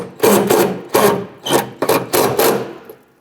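Screws are driven snug into a grille mounting bracket on a 2002-2008 Dodge RAM, giving a series of close, loud rasping bursts of roughly half a second each in an uneven rhythm, with no voices.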